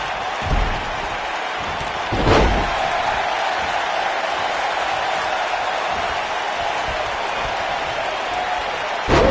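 An arena crowd roars in a WWE 2K18 wrestling game at a Survivor Series pay-per-view, a dense steady wall of cheering with a couple of brief thuds.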